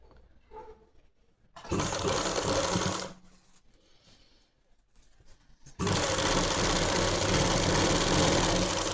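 Electric sewing machine stitching a belt onto a salwar, running in two bursts of steady fast whirring with a quiet pause between, close and loud.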